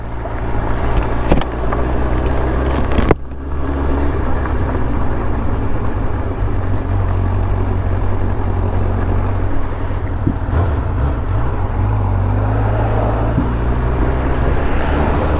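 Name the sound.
motorbike riding over rocks on a trail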